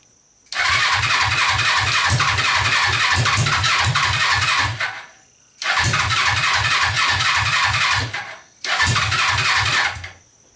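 A Suzuki engine cranks hard in three separate attempts, a fast rhythmic chugging of the starter, loud and close, with each try stopping after a few seconds without the engine catching.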